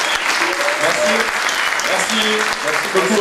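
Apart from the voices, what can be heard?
applause for Alexandre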